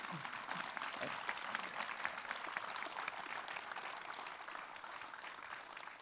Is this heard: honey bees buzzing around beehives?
no